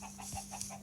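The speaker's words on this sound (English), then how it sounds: "Look at all these wonderful chickens and" Farmyard chickens give a quick run of soft, repeated clucks, close to the microphone over a steady low hum.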